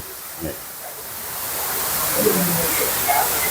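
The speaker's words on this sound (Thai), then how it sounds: "นี่ครับข้างนอกแถบนี้ก็จะทำเป็นน้ำตกจำลอง" An artificial waterfall at Wat Maniwong temple in Nakhon Nayok gives off a steady rushing hiss of falling water that grows louder as it nears, with soft voices faintly underneath.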